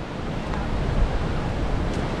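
Ocean surf rolls in beneath the Hermosa Beach pier, a steady, moderately loud wash of waves with wind noise over the microphone, continuous throughout and with no voices.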